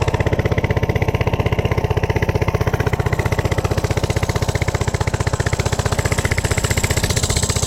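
A worn small engine on a Coleman CC100X minibike runs steadily at close range, a loud, rapid, even putter with a rough mechanical rattle and no voices over it.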